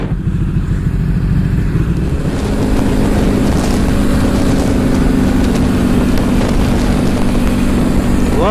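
A Ducati Panigale S sportbike rides along a road, its engine a steady, loud drone with heavy wind rush throughout, continuous and close.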